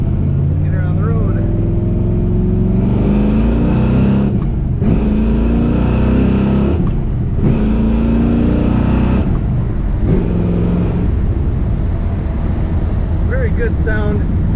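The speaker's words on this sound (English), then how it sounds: "Very good sound, good acceleration, good throttle response on this Nova." A 1970 Chevrolet Nova two-door sedan with a four-speed manual on the floor accelerates on the road, its loud V8-style engine rising through the gears with brief dips at shifts, heard close from inside the car.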